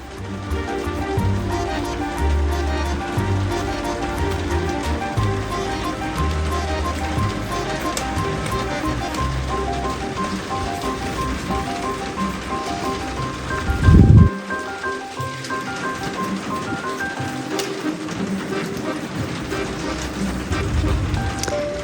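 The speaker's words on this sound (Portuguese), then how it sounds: "Acredito eu que vocês vão escutar aqui durante a aula barulhinho de chuva." Steady rain falling outside in Canoas during an indoor lesson, a constant dense hiss that carries through the whole stretch alongside a continuous tonal background, with one short thump partway through.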